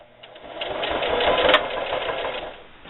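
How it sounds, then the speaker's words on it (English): Sewing machine stitching a seam on a fabric can koozie, a short close burst of rapid, even needle chatter that rises and fades over about three seconds. "I'm going to sew a few stitches over my seam in the beginning"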